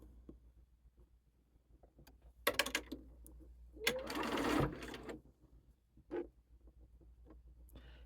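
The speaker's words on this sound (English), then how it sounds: "flip it, and sew my other row" A sewing machine stitches rows of a split nine-patch quilt block made from 2 1/2-inch fabric squares, with a few short bursts and one longer steady run of stitching between quiet pauses, close and moderately loud.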